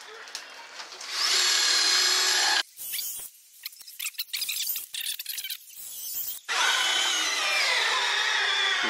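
A power drill bores into wood for a garden bug hotel, with two loud sustained runs separated by a quieter stretch of knocks and handling noise.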